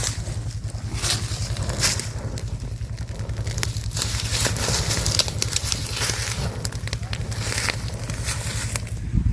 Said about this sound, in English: There's a lot of logging slash on this job, so it's going to burn real hot the first time through.